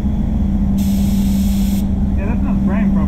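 An automotive paint spray gun sputters while applying clear coat during a spot repair on a Hyundai i20, a short hissing burst over a steady low compressor hum, followed by a voice.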